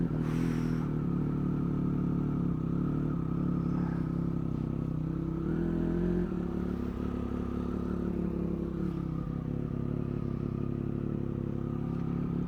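A Triumph 1200RS motorcycle engine runs steadily up close, a low, rumbling idle whose pitch rises and falls as the clutch is slipped and the throttle opened, continuous and loud with no talking.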